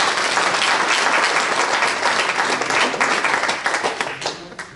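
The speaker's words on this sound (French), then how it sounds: "je crois qu'on peut encore l'applaudir." Dense applause from a crowd at a French political meeting, steady and loud throughout, tapering slightly near the end with a few distinct claps standing out and no speech over it.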